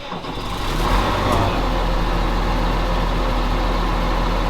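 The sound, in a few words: old Ferguson tractor engine starting and running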